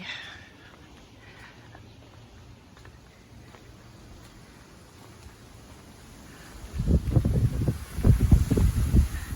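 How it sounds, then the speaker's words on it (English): Wind gusts buffet a microphone outdoors in a garden, a low steady rumble that swells into loud, rough buffeting bursts near the end, with no talking. "the wind's probably gonna prohibit my talking"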